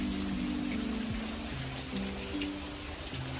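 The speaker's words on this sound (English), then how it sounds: "it's definitely raining now" Steady rain falls at night during Hurricane Idalia, a soft continuous patter and hiss of drops on surfaces, moderately quiet and unbroken, with low hum-like tones beneath and no talking.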